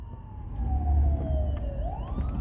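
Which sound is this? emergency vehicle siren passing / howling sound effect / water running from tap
emergency vehicle siren passing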